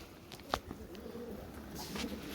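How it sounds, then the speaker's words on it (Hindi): Pigeons coo softly while pecking at scattered sesame seeds, with a faint scuffle of wings and feet and a low, murmuring background. "ये सब तिल खा लेंगे सारे ही कबूतर।"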